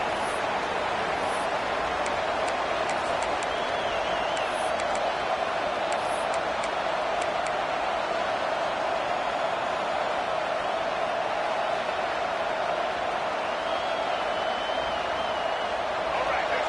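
A football stadium crowd keeps up a steady, distant roar throughout, heard under continuous play-by-play commentary from an announcer.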